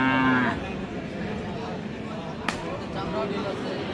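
A Friesian cross bull calf at a rural cattle market in Dinajpur gives a short, low moo at the start, followed by the steady hubbub of the crowded livestock market with people talking.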